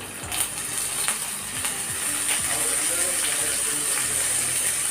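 Mustard seeds and urad dal crackle and sputter in a little oil in a small hot pan, a steady close sizzle with scattered popping bursts throughout.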